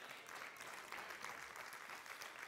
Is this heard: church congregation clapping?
yes